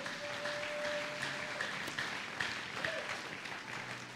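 A church congregation at a prayer gathering applauds the Lord, with continuous moderately distant clapping, scattered cheers and faint voices filling the room.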